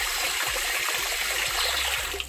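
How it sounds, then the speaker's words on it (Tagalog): Water pours steadily into a pot for chicken soup, a continuous close splashing gush that runs the whole time with no talk over it. "then lagyan nyo siya lang tubig."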